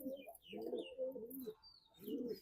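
A khaki pigeon coos close by in a few soft, low, throaty phrases, with faint chirps in the background.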